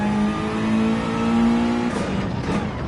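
A race car in a Laguna Seca racing game accelerates, its engine tone rising steadily near and loud, then briefly dipping as the pitch shifts toward the end.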